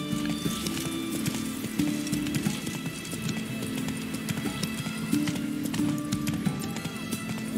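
Horse hooves clip-clop at a steady trot in The Witcher 3, with occasional whinnies over an ambient game soundscape and no talk.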